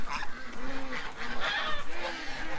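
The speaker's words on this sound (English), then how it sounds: "The geese are chasing me." Several geese honk loudly and close by, with repeated nasal calls overlapping in quick bursts.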